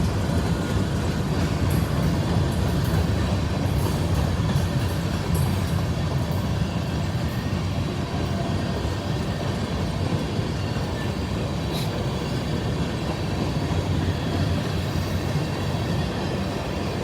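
A CSX freight train rolls past at Kelly, Kentucky, a steady loud rumble of wheels and cars that continues unbroken throughout, with faint squeals and clicks on top.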